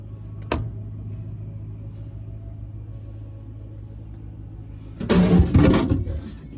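A refrigerator drawer gives a short knock, then a quiet stretch with a low hum, then a louder burst of plastic scraping and rattling as the drawers are pulled out.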